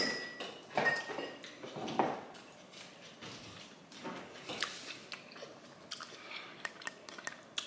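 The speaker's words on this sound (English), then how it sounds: "This brand is the best brand of the sliced jalapenos. They still be crunchy." Someone chews crunchy sliced jalapenos from a jar, a quiet close-up of irregular crisp crunches and wet squishing bites scattered over several seconds, with no talking.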